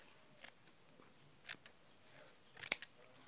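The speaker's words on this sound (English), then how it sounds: "Fold it in half, cut it" Scissors cut through folded felt in a few short, quiet, close snips spaced apart, with a cluster of crisp cuts toward the end and no talking.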